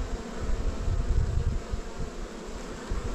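Honeybees buzzing in a continuous, close, low droning hum that swells and fades slightly, with no voices.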